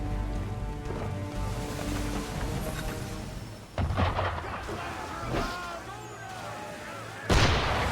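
Ship cannons boom in an 18th-century naval scene from the video game Assassin's Creed III Remastered, heavy blasts and rumbling impacts rolling over an ambient soundscape, with a sharp loud burst near the end.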